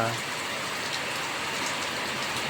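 Steady, dense rain pours down in a constant hiss, heavy and even throughout with no talking.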